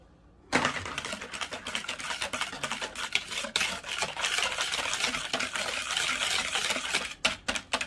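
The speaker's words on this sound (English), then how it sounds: "I'll be whipping it as I pour it." Rapid clattering of a whisk against a bowl of eggnog mixture, a steady fast rhythm of metallic ticks close by, with no voices.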